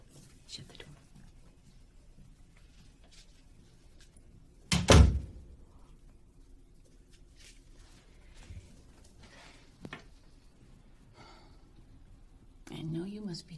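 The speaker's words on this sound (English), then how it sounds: "Shut the door." A door is shut with one sharp thud partway through, preceded and followed by quiet room tone, soft rustles and faint voices near the end.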